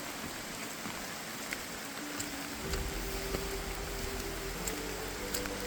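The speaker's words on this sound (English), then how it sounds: "Raining like a son of a." Steady rain falls on a Hawaiian trail, a broad even hiss with scattered droplet taps, growing heavier and denser partway through and continuing without any voices.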